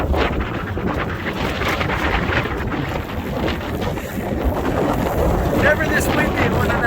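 Strong wind roaring across a microphone aboard an Ericson 38-200 sailboat, a loud, constant buffeting rush with gusty swells and no clear voices.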